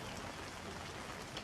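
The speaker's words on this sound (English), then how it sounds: "Today it's a bit raining." Light rain falling steadily in Vietnam, a soft even patter of drops on surfaces, faint and continuous with no voices.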